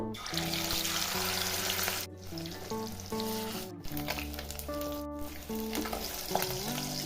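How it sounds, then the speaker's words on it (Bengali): Katla fish sizzles steadily frying in mustard oil, a continuous crackling hiss close by, with background music playing throughout and brief pauses. "এবার আমি সরষা তেল দিব তেলটা একটু বেশি পরিমাণে দিব দিয়ে মাছগুলো ভেজে নিব"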